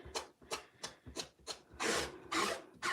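A rubber stamp is rubbed hard to clean off pecan pie coloured ink, giving a close series of quick rasping scrubs, first short and even, then longer and louder strokes.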